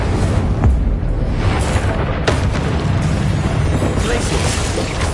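An Incendio fire spell is cast in Hogwarts Legacy, a dense roaring whoosh of flame with low rumble and a couple of sharp bursts, loud and continuous throughout, with a voice briefly over it.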